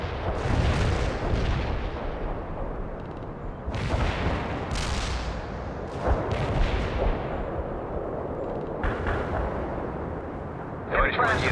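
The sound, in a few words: artillery strike in the video game World in Conflict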